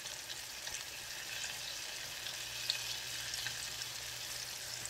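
Oyster mushrooms frying gently over a low fire, giving a steady, soft sizzle and crackle throughout with no voices, faint and even in level.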